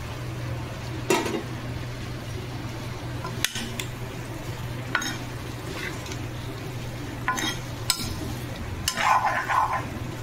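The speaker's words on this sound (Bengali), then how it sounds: "এইবারে একদম লো হিটে রেখে রেখে আমি আরও 3 থেকে 4 মিনিট এটাকে কষিয়ে নেব।" Fried potatoes being stirred in a pan on low heat: a soft continuous sizzle with a low hum, broken by a few sharp scrapes and knocks of a spatula against the metal.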